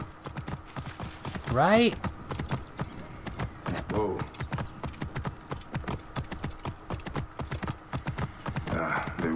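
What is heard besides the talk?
horse hooves clip-clopping in video game Assassin's Creed Origins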